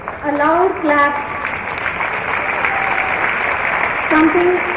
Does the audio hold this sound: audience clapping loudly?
yes